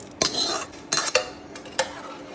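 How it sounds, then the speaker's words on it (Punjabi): A spoon stirs tempering into bottle gourd and chana dal in a metal pot, making several sharp, irregular clinks and scrapes against the pot, up close with no talk. "ਤੜਕੇ ਨੂੰ ਦਾਲ ਦੇ ਵਿੱਚ ਮਿਕਸ ਕਰ ਦੇਣਾ"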